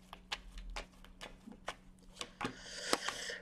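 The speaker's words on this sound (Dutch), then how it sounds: "We gaan de kaarten schudden om te kijken wat deze week voor jou gaat brengen." Cards being shuffled by hand for a tarot reading, a run of crisp riffling bursts close up with no talking.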